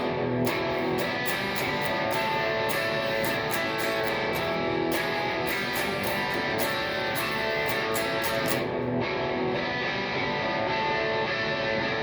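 Electric guitar run through compression, reverb and a Joyo gain pedal, a dense, sustained distorted tone with strummed attacks, steady and loud for the full length before the drive thins out near the end.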